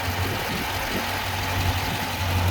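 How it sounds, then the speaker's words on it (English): A 2021 Dodge Durango SRT 392 AWD with its 392 Hemi V8 idles smoothly and steadily, a deep even rumble heard close up and uninterrupted. "the star of the show is that big 392 Hemi V8, idling very smooth"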